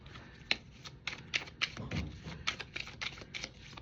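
Tarot cards being shuffled by hand, a close, quiet run of crisp riffling snaps and soft slaps in an uneven rhythm, with no talking.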